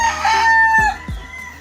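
A tornado hatch gamefowl rooster crows loud and close, a single drawn-out call, with a few short low thumps near its end.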